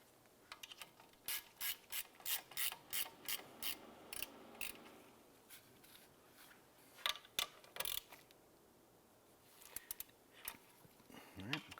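A ratchet clicks in quick, evenly spaced bursts while snugging down rear brake caliper bolts on a 2006-2011 Cadillac DTS, a short pause between runs, faint and close in a quiet garage.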